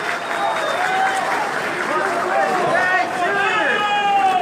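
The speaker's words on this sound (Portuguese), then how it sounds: "Uma salva de palmas." A crowd applauding at a political speech by President Jair Bolsonaro, a dense steady wash of clapping mixed with cheering voices and whistles, loud and continuous throughout.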